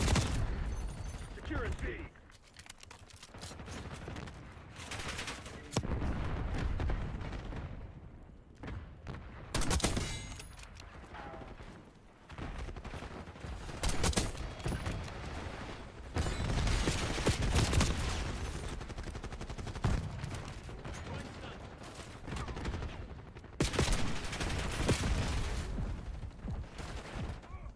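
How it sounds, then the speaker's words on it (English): Enemy sniper fire and other gunfire in Black Ops 6, heard as scattered loud shots and bursts across a busy battle soundscape, with a game announcer speaking briefly over it. "Enemy sniper shooting."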